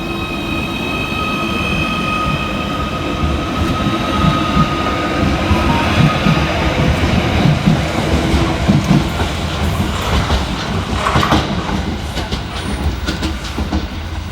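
A Merseyrail Class 777 electric train departs a station, a steady rolling rumble with rail clatter and faint squealing wheels that builds a little as it pulls away.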